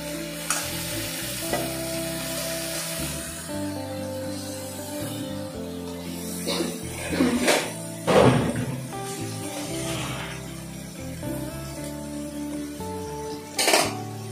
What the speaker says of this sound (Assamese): এতিয়া মই লৰাই দিম ভালদৰে।